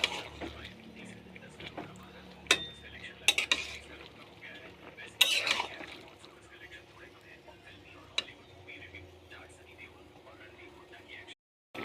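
Vegetables including soybeans and peas are stirred in a pan with irregular clanks and scrapes of a spoon against metal over a soft sizzle, while a voice talks intermittently.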